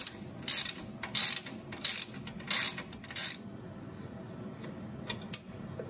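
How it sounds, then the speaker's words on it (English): Ratchet with a 12 mm socket working bolts on a Honda ATC200E Big Red three-wheeler during teardown: about six sharp close bursts of rapid clicking, then quieter faint ticks. "And we got a 12 millimeter socket."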